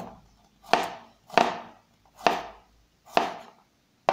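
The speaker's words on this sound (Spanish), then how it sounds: "cortado en láminas delgadas lo vamos a tener" A knife cuts garlic cloves into thin slices on a board, giving five sharp, evenly spaced chops that are close and clear against near silence.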